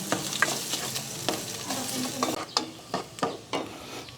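Onion, garlic and ginger sautéing in a pan, a sizzle broken by several sharp scraping stirs of a utensil against the metal, close and clear with no voices.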